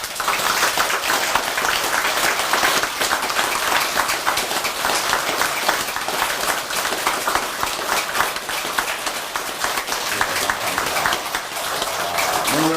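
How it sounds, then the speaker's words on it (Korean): A congregation at a Buddhist temple's Buddha's Birthday dharma talk breaks into loud, sustained applause, dense and steady clapping filling the room for the whole stretch without letting up. "자기 자신을 위해서 큰 박수로 격려합니다."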